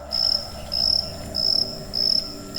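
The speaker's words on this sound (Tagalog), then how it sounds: "sa ingay ng mga kuliglig." A cricket chirps in four steady, evenly spaced bursts of shrill trilling, close and clear against a quiet background.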